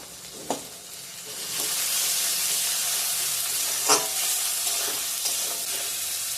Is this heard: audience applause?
no